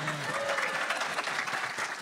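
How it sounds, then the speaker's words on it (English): Audience applause at an RTX 2015 convention panel for the Rooster Teeth design team, a steady burst of clapping from a crowd filling the room, with a brief voice at the start. "we'll give Tom an applause too"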